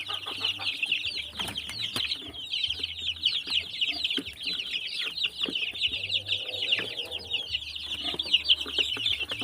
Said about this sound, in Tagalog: halo ng Rhode Island Red at saka native chicken